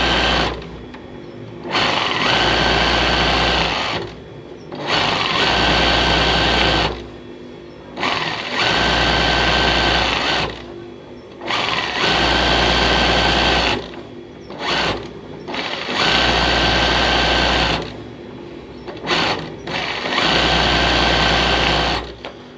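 An embroidery sewing machine stitches in steady, buzzing runs of a few seconds each, loud and close, broken by short pauses as the fabric is repositioned, with no talking over it.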